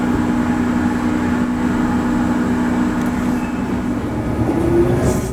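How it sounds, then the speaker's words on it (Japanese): Kintetsu Yoshino Line train running on track in Japan: a steady rumbling roll with a sustained hum, continuous and fairly close throughout. "無駄駅から大和上市駅に向けて走行中の列車。"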